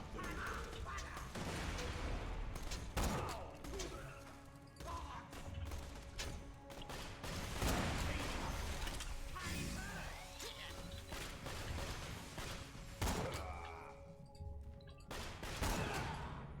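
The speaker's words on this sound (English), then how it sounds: "Should we shoot the barrel?" Gunfire in Borderlands: The Pre-Sequel, with rapid shots and crashing impacts as a barrel is hit, set among dense game effects and whooshes, with a player talking over the action.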